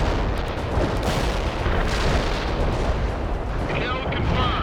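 Artillery barrage in the strategy game World in Conflict, a dense continuous rumble of distant booms and blasts rolling together, loud throughout, with radio-style voice chatter mixed in.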